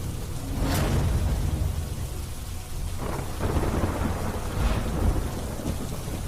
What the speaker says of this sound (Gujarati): પોરબંદરમાં ગઈકાલથી જ ધોધમાર વરસાદ પડી રહ્યો છે।